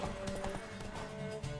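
Horse hooves clip-clop at a steady walking rhythm in The Witcher 3, faint and continuous.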